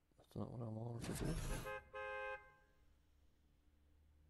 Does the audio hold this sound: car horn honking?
yes